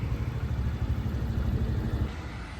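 A motorbike ridden through Delhi traffic on a smoggy morning gives a steady, close engine rumble with a clattering low throb that holds throughout, with no voices.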